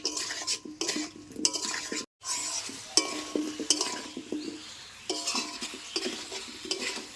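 Meat, potatoes and spices fried and stirred in a pan for a village-style curry with green chillies, with repeated close scraping and clinking of a spoon over a soft sizzle, broken by one short pause and with no talk.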